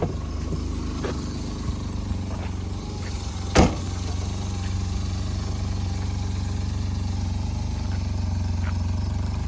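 A Maruti car engine idles at midnight after sitting unused for a long time, giving a steady low rumbling hum throughout with one brief sharp knock partway through.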